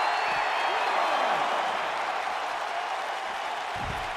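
A wrestling crowd in the WWE 2K19 video game roars steadily and without a break, a dense wash of cheering and applause-like noise that holds the same level throughout.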